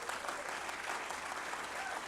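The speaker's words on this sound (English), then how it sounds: "Let's have a round of applause for them." Audience applause at a Veterans Day event, a continuous wash of many hands clapping at moderate distance, even and fairly quiet throughout.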